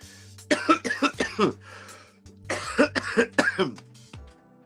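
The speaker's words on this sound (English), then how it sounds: "I'm not used to coughing. Normally I don't cough." Two bursts of harsh, repeated coughing, each a cluster of three or four hacking coughs, close and fairly loud, separated by a brief pause.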